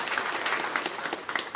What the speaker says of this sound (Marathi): एकदा त्यांच्यासाठी जोरात टाळ्या.